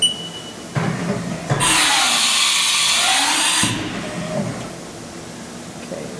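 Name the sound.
tool change on Haas VF0E vertical machining center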